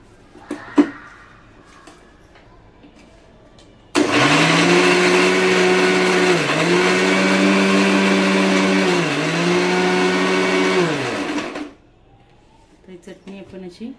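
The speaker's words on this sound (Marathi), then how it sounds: "तर चला मिक्सरला आपण लावून घेऊया चटणी" A kitchen mixer grinder whirs loudly for about eight seconds, grinding amla chutney with water, its motor pitch dipping briefly twice before stopping; light handling noises come before and after.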